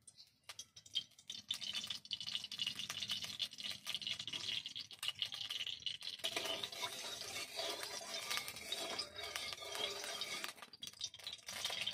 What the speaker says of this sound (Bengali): কড়াইতে দিয়ে দেব পরিমাণ মতো তেল।